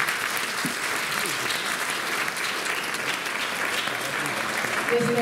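An audience applauds the Ateneu choir at a Christmas concert in Bacău, a steady, dense wash of clapping that fills the hall evenly from start to finish.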